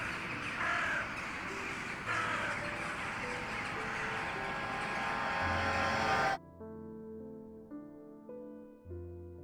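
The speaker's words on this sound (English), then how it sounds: "you saw a group of crows and ravens going like, ah!" Loud, harsh cawing from a group of crows and ravens fills the first six seconds, calls overlapping in a dense chorus, then drops away to quieter, sparser tonal sounds.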